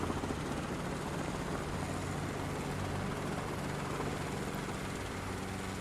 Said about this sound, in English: me rolling the throttle up was adding RPM to the rotor blades